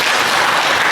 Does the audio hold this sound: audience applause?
yes